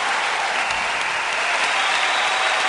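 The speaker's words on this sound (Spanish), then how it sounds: "Le damos un gran aplauso al querido tío Emilio" Steady, dense audience applause fills a large theatre at a Chilean television awards gala as the host Emilio Sutherland is named winner, loud and sustained with no break.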